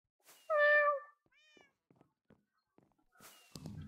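A cat meows once, loud and close, in the Minecraft Java Edition game on a Mineplex server, followed by a few faint, scattered clicks and soft game noises.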